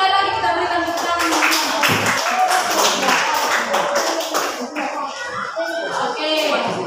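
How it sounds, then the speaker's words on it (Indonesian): Clapping from a classroom of students applauding a returning group, with taps and claps spread across the whole clip and children's voices mixed in throughout. "Mari sekali lagi kita berikan tepuk tangan."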